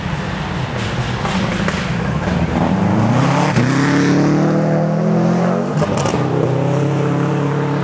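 A rally car engine revs hard and accelerates on a rally stage, its roaring pitch climbing steadily and staying loud throughout, with no talking.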